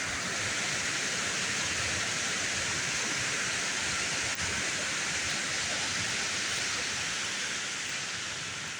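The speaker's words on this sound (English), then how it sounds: "the pipes come out, the discharge tubes drop into the river." A steady, loud rush of water pours continuously from discharge pipes into a river, a broad hissing roar, with no voices.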